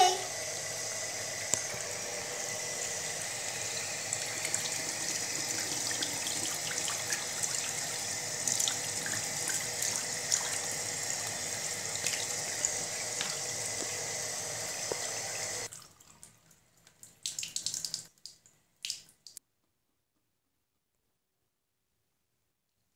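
Tap water runs steadily into a sink for about fifteen seconds, a continuous hissing splash at moderate level, then cuts off, followed by a few faint handling sounds and silence.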